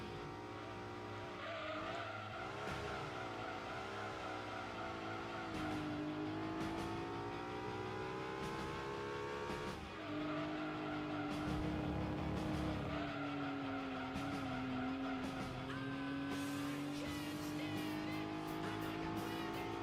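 Mitsubishi FTO at full throttle in Gran Turismo 2, the engine holding a steady high-revving drone that rises and falls in pitch as the car slides through rally-track corners, with tire squeal mixed in throughout.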